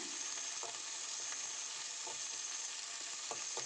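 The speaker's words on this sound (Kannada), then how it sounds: "ನಾನಿಲ್ಲಿ ಕರ್ಬೇವಿನ ಸೊಪ್ಪು ಹಾಗೆ ಬೆಳ್ಳುಳ್ಳಿ ಹಾಕ್ಕೊಳ್ತಾ ಇದ್ದೀನಿ ಹಾಗೆ ಮೆಣಸಿನ್ಕಾಯಿ ಇದನ್ನು ಸ್ವಲ್ಪ ಫ್ರೈ ಮಾಡ್ಕೊಳ್ಳೋಣ" Curry leaves, garlic and green chillies frying in oil in a pan, a soft, continuous sizzle with a few faint stirring scrapes, quiet and steady throughout.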